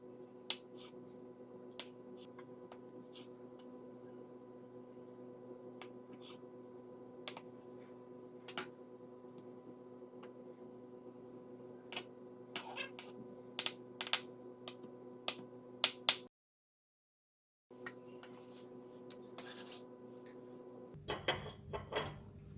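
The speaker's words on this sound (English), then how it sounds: "So I'm going to cut it into bite size." A knife cuts through very soft tofu on a board, making a series of sharp, irregular taps and clicks over a steady background hum. The sound drops out briefly and ends with a burst of busier clatter.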